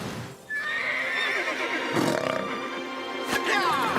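Cartoon horses whinny loudly over a steady rush of galloping hooves and movement, with another neigh near the end; busy and close.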